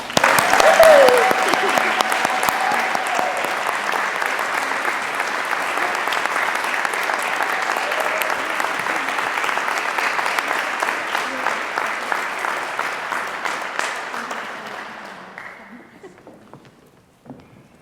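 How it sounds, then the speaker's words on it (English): A large audience at a 2021 Warner School of Education commencement claps for Doctor of Education graduates, a dense, loud, even applause lasting well over ten seconds before thinning and fading into scattered claps. "Will you please join me in applause for the Warner School's Doctor of Education graduates?"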